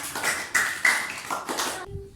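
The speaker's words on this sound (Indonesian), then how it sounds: "Tepuk tangan buat kalian semua." A small class of children claps in a lesson, a few loose bursts of clapping in uneven clusters that stop abruptly, followed by a short tone.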